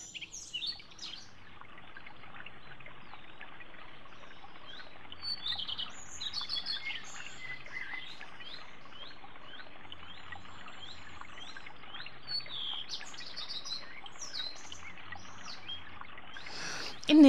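Young redstart fledglings and their parent birds chirp in a garden, a long run of thin, high, fairly faint tweets and calls repeating over a quiet background with no talk.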